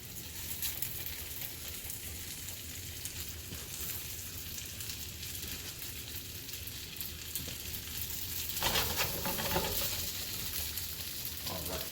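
Sweet potato gnocchi fry in a pan with a steady, soft crackling sizzle that holds evenly throughout, briefly swelling with a sharper burst of spatter near the end.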